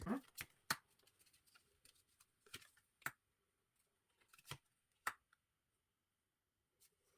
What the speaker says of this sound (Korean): 조언 카드 뽑아보겠습니다